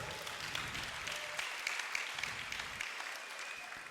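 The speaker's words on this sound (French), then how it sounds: "Clap for yourself." Applause from a church congregation during a worship service, a dense crackle of many hands clapping at a distance, fairly faint and steady throughout.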